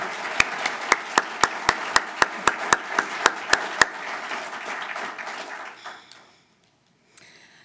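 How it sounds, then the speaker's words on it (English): A few loud, sharp claps in a steady rhythm ring out over a murmuring room after an introduction at an economic conference, then stop, leaving quiet background chatter. "Let's just take a moment to give her a round of applause."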